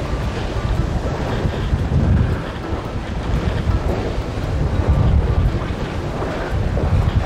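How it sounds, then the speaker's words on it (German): Steady wind roaring over the microphone on a sailboat at sea off the Swedish coast near Marstrand, blowing about 15 knots, with a low rumble of waves and surf running continuously underneath. "Jetzt habe ich gerade 4, 15 Knoten Wind."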